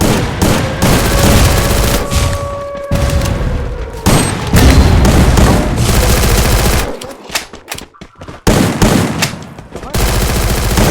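Loud, dense combat in the video game Free Fire: rapid gunfire and heavy booming explosions crowd together, with a brief lull before the chaos resumes.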